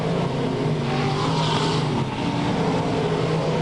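Race cars roar around the track at Albany Saratoga as the field runs up the backstretch, a continuous loud engine drone with slight shifts in pitch and no voices.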